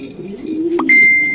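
A racer pigeon gives a short, close, low coo, followed by a thin sustained high tone.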